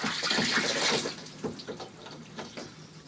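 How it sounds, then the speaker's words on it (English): Water jets into a yacht hull through the opening of a removed speed log, a loud rushing gush at first that then eases into a weaker, uneven flow with gurgling bursts. "You'll notice that initially water jets in and then it slows down."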